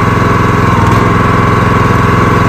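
Engine-powered log splitter working through a green red oak log, its small engine droning loud and steady at close range with a constant throbbing hum and no talk over it.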